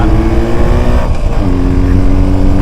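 A Jawa 350 motorcycle with a sidecar, carrying a passenger, accelerates hard through a corner, its engine droning loud and close with a steady throaty pitch that shifts slightly midway.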